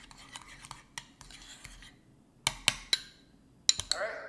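Garlic pressed and scraped against the side of a container into paste, a series of sharp clinks and scrapes of utensil on the vessel in irregular clusters, close and fairly quiet, with no one talking.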